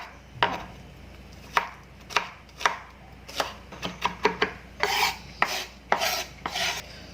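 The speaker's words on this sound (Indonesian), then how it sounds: "Pertama yang saya rajang adalah bawang putih." A knife chopping garlic on a board, producing crisp, spaced thuds that grow quicker and more clustered toward the end, close and clear with no talk.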